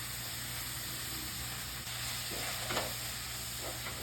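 Ground coriander, turmeric and roasted fenugreek powders fry in a pan for sambar, giving a soft, steady sizzle with a few light scraping stirs near the end.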